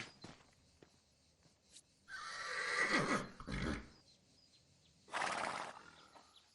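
A horse on a farm neighs in two loud whinnying bursts separated by a pause, heard close by against a quiet background with faint rustling and movement.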